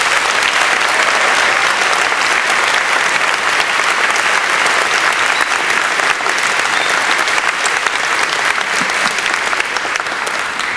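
A large audience at a policy panel event breaks into loud, steady applause welcoming the moderator to the stage, a dense wash of clapping sustained for the whole span with no voices rising above it.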